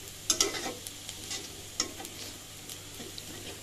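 Snake gourd stir-frying with onion and chili in a pan, a quiet sizzle broken by several close clinks and scrapes of the stirring spoon.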